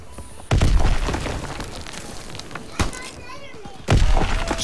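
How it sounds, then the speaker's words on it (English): Grenade blasts in Call of Duty: WWII, two loud booming explosions a few seconds apart with a smaller thump between, over a steady din of battle noise and voices. "That grenade got behind me."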